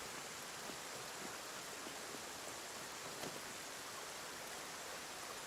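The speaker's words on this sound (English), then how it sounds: "glass walkway to see if we can see the rain on the glass" Soft, steady hiss of rain falling on a glass walkway in the video game Satisfactory, an even wash with faint scattered drop ticks and no other sounds.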